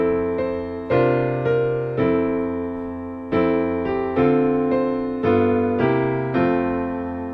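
Solo piano plays a bossa nova arrangement of Angels We Have Heard On High, with left-hand chord roots and syncopated, anticipated chords struck in a lilting rhythm, clear and close.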